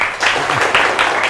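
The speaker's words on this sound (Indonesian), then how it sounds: "Bagus, berikan tepuk tangan yang meriah." Classroom applause for a group's report on cube volume, with pupils clapping in uneven bursts that swell and fade, close and fairly loud, and voices mixed in.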